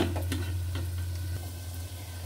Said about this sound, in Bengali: মাংসটা আমি ভালো করে কষিয়ে নিব, একটু ঢেকে দিব।